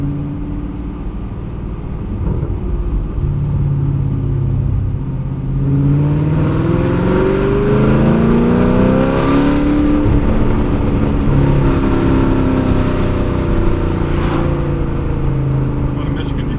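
A modified 2022 Camaro SS 1LE V8 exhaust, a deep throaty engine note that climbs and falls through rising revs, loud and near, with people talking over it at times.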